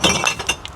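Glass bottles clink and clatter into a recycling bin at a campsite, a quick burst of bright clinks and knocks lasting under a second.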